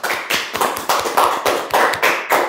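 A small studio audience claps in a steady burst of rhythmic hand claps for a guest on an Indonesian talk show, fairly close and alone with no talk over it.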